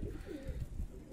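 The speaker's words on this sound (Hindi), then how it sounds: "देखो ये कबूतरी है" A female pigeon of the Madrasi breed coos close by on a rooftop, a few soft low throaty rolling calls in quick succession, heard alone without talk.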